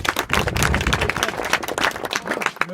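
Students in a school classroom clap together, a dense, rapid burst of many hands close by that carries on steadily for a few seconds before thinning out at the end.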